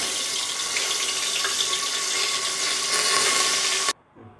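Mustard seeds and curry leaves sizzle in hot oil for a brinjal curry, a steady bright hiss that runs for about four seconds before cutting off abruptly.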